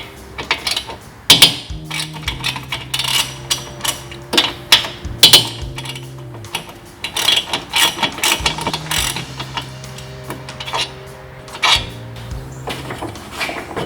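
A ratchet removing brake caliper bolts on a Polaris RZR XP Turbo side-by-side: repeated close, loud ratcheting clicks in bursts, with short metallic clanks between strokes and no talking.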